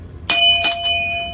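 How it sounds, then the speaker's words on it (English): A notification bell chimes twice in quick succession, a bright, clear ding whose tone rings on briefly, heard alone at close range. "ring that notification bell so you'll know when the next episode is up and running"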